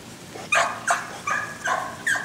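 Puppies giving four short, sharp yips and barks in quick succession outdoors on a wet day, fairly faint and somewhat distant, with no talking over them.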